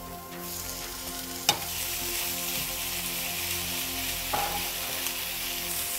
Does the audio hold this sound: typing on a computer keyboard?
no